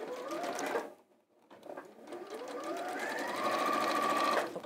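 A sewing machine stitches down fabric edges, running in a steady mechanical whir that speeds up and holds, with a short pause near the start, loud and close.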